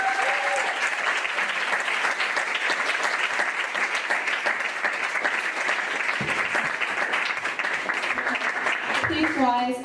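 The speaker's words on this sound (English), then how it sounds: "Can we have one more round of applause?" Church congregation at a Sunday service giving a sustained round of applause, dense steady clapping from many hands close by for nearly ten seconds, a voice starting to speak as it fades at the end.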